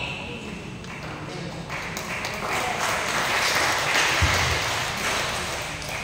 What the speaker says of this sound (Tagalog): Grabe po yung palakpak niyo.